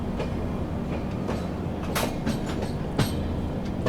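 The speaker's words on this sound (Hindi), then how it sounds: "चलिए दोस्तों अपनी ट्रेन अराइव कर रही है हॉस्पिटल जंक्शन पे" Karnataka Sampark Kranti Express train pulling into a junction station, a steady rumble of rolling wagons with sharp clicking and clanking transients from the wheels over rail joints, fairly close and continuous.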